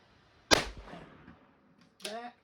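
A single sharp 6BRA rifle shot fired from a shooting bench, a loud crack with a short decay, followed by a brief metallic clack.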